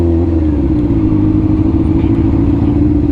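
Ford Mustang engine running hard, a loud, steady, close low rumble with a constant throaty drone throughout.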